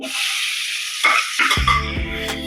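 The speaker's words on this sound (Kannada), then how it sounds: "ಈರುಳ್ಳಿ ಚೆನ್ನಾಗಿ ಫ್ರೈ ಮಾಡಬೇಕು, ಕೆಂಪು ಆಗೋವರೆಗೂ." Onions fry in oil and butter with whole spices on a tawa for Mumbai-style pulao, giving a loud, steady sizzle close by, broken by scraping stirs and a clank of utensil against pan near the end.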